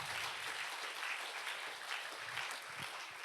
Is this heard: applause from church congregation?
yes